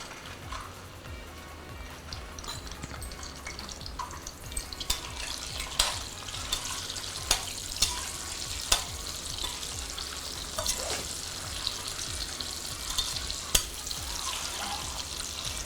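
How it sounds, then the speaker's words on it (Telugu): Peeled boiled eggs fry in oil with turmeric, giving a steady broadband sizzle throughout, with sharp crackles and pops plus occasional stirring scrapes, close and fairly loud, no voices. "కొంచెం పసుపు వేసుకుని వేయించుకోవాలండి"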